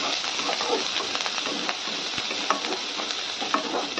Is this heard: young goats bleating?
no